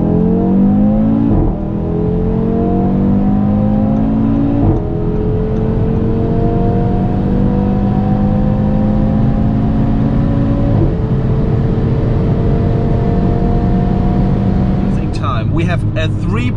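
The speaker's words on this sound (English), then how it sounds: "Let's now see how fast the car goes from 100 to 200 rolling start." An Audi RS3 sedan on winter tires pulls hard from a rolling 100 up to 200 km/h, its engine rising steadily in pitch through several gear changes with brief dips between, loud and close from inside the car.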